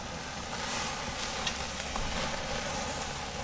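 Steak searing on a grill over the sear zone gives a steady, dense sizzle at close range, with a few faint pops and no voices.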